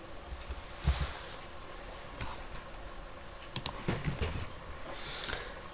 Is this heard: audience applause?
no